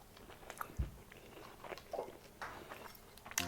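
Someone bites into a KFC pizza with a single crisp, close crunch, then keeps chewing with soft, irregular mouth sounds, and no one speaks.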